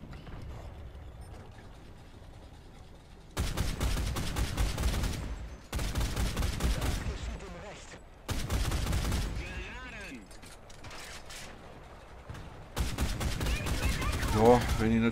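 A Japanese So-Ki anti-aircraft gun fires in War Thunder ground battles, loud bursts of rapid automatic fire in several separate volleys with short quiet gaps between them.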